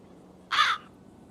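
A crow gives a single harsh caw, short and fairly close, over quiet background.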